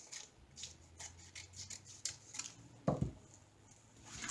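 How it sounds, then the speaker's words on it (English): Scissors snipping through a diamond painting item to cut it in half, a few light close snips among faint handling rustles, with one sharper cut near the end. "So I'm going to just cut it in half."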